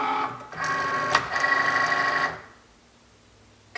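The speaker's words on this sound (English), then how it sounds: "now we'll take that over to the Cricut Maker and cut it out" A Cricut Maker cutting machine pulls in its cutting mat with a steady mechanical whirring and whine lasting about two seconds, a brief click partway through, then it stops and falls nearly silent.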